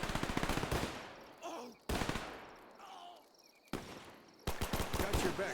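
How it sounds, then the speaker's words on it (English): Machine gun fire in the WWII real-time strategy game Men of War II, rapid bursts of rattling shots in clustered volleys separated by brief gaps and echoing tails, loud and close with overlapping distant fire. "There's a lot of gunfire."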